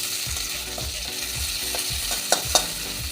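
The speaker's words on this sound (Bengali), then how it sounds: "এবার দেব দুটো কুচো করে রাখা পেঁয়াজ" Chopped onions and crushed garlic sizzle steadily in hot oil for an okra curry, with a continuous frying hiss and a couple of sharp clinks of a spatula against the pan near the end.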